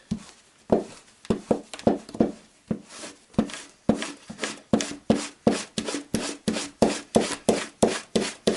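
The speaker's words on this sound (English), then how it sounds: "So get your wax, rub it all over." Wax is rubbed firmly into leather for a dump pouch, a regular rhythm of rough scraping strokes about two per second, close and loud with no talking.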